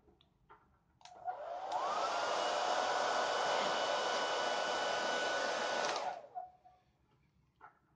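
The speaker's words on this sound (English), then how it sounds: "what does it look like when you boot a sports sock, like a low-cut sports sock, ankle high, from Decathlon on in front of the nozzle of a hairdryer?" A hairdryer blows into a low-cut ankle-high sports sock from Decathlon, starting with a click, holding a loud steady whooshing roar for about five seconds, then cutting off with a fading whine, with no talk over it.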